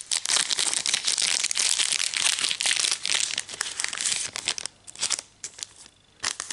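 Yu-Gi-Oh booster pack of the Chaos Toon edition being torn open by hand, loud close crinkling and ripping of foil wrapper in rapid bursts, easing into softer rustles toward the end.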